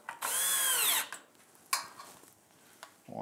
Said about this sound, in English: And at this point, use your drill.